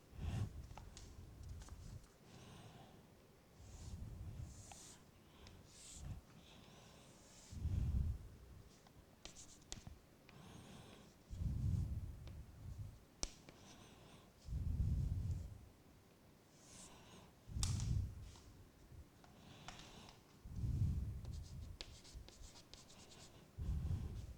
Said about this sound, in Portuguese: eu vou desenhar essa figura